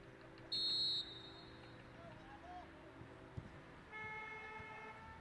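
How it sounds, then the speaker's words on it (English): A car horn gives a single short honk beside an outdoor boys' high school soccer game, sounding moderately distant over steady crowd and field ambience, with a second tonal blare later. "Somebody else just got on TV with a honk."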